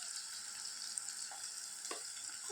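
Onions sizzle in a pan with a steady, bright frying hiss, faint and continuous, as a few soft stirring scrapes break through.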